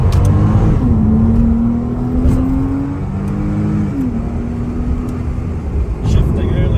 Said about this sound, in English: just wanted to demonstrate that awesome roar from the engine